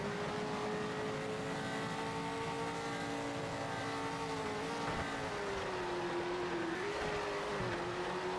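A V8 supercar hot lapping in a racing video game holds a continuous high engine drone that rises and dips slightly as it shifts through corners, heard steadily with no talk.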